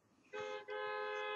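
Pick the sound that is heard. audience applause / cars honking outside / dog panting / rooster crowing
cars honking outside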